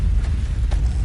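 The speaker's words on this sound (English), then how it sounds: "An earthquake!" A deep, continuous earthquake rumble in the horror video game Siren, a heavy low roar that holds steady and loud throughout the short moment with no voices over it.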